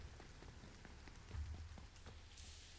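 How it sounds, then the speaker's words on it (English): Rain falls steadily in a video game, a soft continuous patter and hiss that stays faint and even throughout. "Now it's raining."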